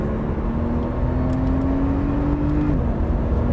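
A Porsche 911 Turbo powering out of a corner on a track, its engine a steady, loud drone with a pitch that climbs slightly, then drops at a gear change near the end.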